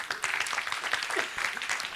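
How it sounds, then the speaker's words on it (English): A conference plenary audience applauds with dense, steady clapping that holds at an even level throughout. "Our applause, please."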